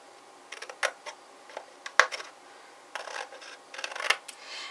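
Paper being cut with scissors while making a four-pocket swap box, a quiet series of short crisp snips and rustles at close range in scattered bursts, with no talking.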